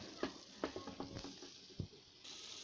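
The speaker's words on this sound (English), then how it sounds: "You can see the pot boiling." A pot of egusi soup made without meat or fish boils steadily, giving a soft sizzling hiss broken by several distinct bubbling pops and crackles, with no voices.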